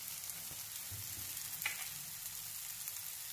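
Ground spices such as turmeric, red chilli, cumin and garam masala roasting in a pan for Surat-style anda ghotala, a loud continuous sizzle with occasional stirring clicks and no talking.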